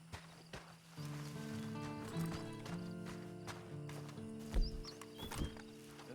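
Horse hooves clip-clop in Red Dead Redemption 2 amid layered game music and ambience, with a whinny-like call and a few louder hoof strikes near the end.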